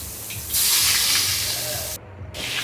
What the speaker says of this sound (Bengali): তো দেখো, এখানে আমি আলুটা ভাজছি।